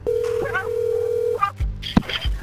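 A cell phone dials an emergency call, with a steady held tone, short dialing beeps and some clicks, close and fairly loud, with muffled voices briefly underneath.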